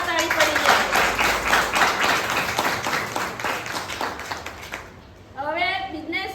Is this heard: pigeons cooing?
no